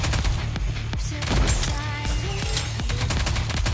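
Dense, rapid gunfire from the mobile shooter Goddess of Victory: NIKKE, a continuous loud barrage of overlapping shots and booms with no pause, heard alone without speech.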